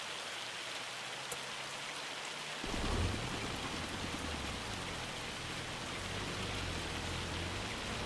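Hail pelting down in Farming Simulator 25, a steady dense hiss of pellets that swells abruptly about a third of the way in and then stays constant, with no talking.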